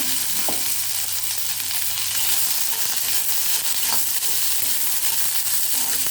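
Onions sautéing gently on low heat in a pan for a chapati side dish, giving a dense continuous sizzle and hiss, close up, with a couple of faint utensil taps and no talk.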